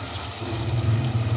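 About a cup of water poured into a pan of frying tinda curry, a brief steady splashing gush close by that builds over a second without any talk.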